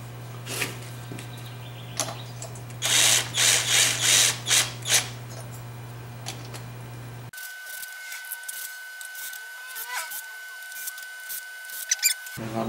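Ratchet tightening the head gasket bolts on a Tecumseh 10hp small engine, a run of quick clicking bursts in the middle followed by sparse, fainter clicks close by, with no talking.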